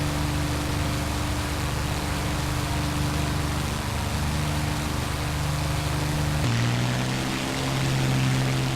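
Simulated P-51D Mustang piston engine in a flight simulator during a steep climb, a constant droning hum with steady tonal layers that shifts pitch lower partway through, loud and unbroken with no talking.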